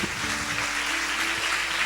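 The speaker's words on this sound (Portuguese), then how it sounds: "Pode aplaudir o Senhor." A church congregation applauds during a sermon, a soft, steady wash of clapping from a crowd with a low sustained tone beneath it.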